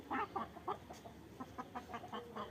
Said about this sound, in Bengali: এই যে দেখেন এইগুলো লাল মুরগিগুলো দেখতে খুব ভালো লাগে